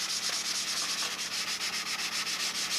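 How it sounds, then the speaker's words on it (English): Rhythmic back-and-forth scratching of sandpaper rubbing steadily across a model airplane wing, close and quick, with no voices. "Now sanding out this wing"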